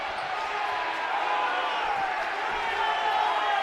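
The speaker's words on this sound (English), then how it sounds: "The Pendleton crowd hates that call" A high school boys basketball crowd at a Pendleton Heights game reacts to a foul call with a steady, loud wash of displeased murmuring and shouting that fills the gym.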